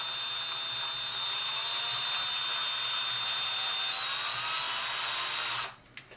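A power drill twisting wrapping wire whirs steadily at a constant high pitch for several seconds, then stops abruptly, leaving a couple of small clicks.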